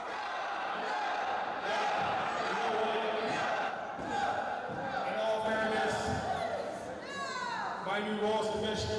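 A wrestling crowd at a live indie show reacts with a steady roar of cheers and shouting, while a voice speaks loudly over the noise throughout.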